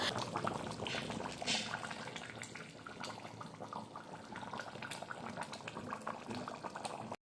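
Chicken curry with light spicing bubbles steadily in a pot, a dense, continuous rolling boil with soft popping that stays fairly even throughout, close by and with no voices.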